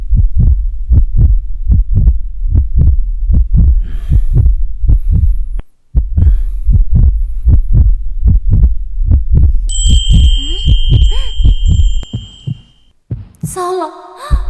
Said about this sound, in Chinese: 你的心跳好大声啊！